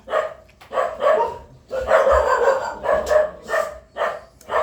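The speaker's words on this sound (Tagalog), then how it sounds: "Nang pakisaway nga ng aso." A dog barks repeatedly in a steady rhythm, roughly eight sharp barks close by with brief pauses between them.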